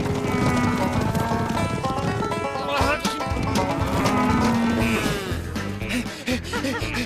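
A cow moos loudly several times, long low calls over a busy outdoor farm background with other animal noises.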